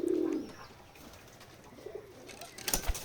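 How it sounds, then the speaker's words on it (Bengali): Pigeons on a farm in Betikhola village, Keshabpur, Jessore give a soft, low coo at the start, followed by quieter rustling and a faint second murmur before a brief clatter. "আমাদের খামারের কবুতরগুলো দেখতে মাশাআল্লাহ অনেকটা সুন্দর"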